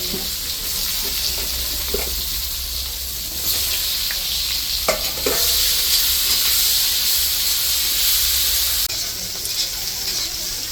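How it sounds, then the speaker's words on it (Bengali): Eggplant slices fry in oil in a loud, steady hissing sizzle that swells partway through, with a few utensil clinks and faint voices in the background. "বেগুন ভাজা হয়ে গেছে"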